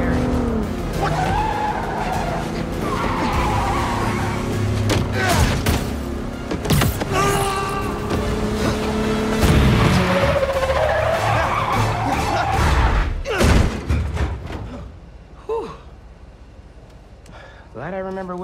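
A car skids and its tires squeal repeatedly during a chase in the video game Marvel's Spider-Man 2. Engine roar runs under the squeals, a character speaks, and a final slide brings the car to a stop.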